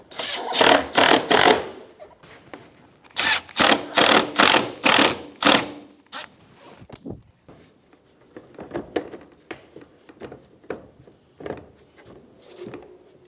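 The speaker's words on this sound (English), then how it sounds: "Install your Phillips head screws." Screws are driven into a 2013-2017 Honda Accord lower grille with a tool, giving repeated bursts of whirring and ratcheting, loud in clusters early and then softer, scattered clicks and rattles.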